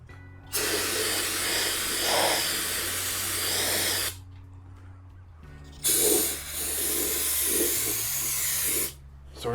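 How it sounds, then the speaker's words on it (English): Brake cleaner is sprayed from an aerosol can onto car parts in two loud, close hissing bursts of a few seconds each, separated by a short quiet gap, with a low hum underneath. "Hit it with our brake clean."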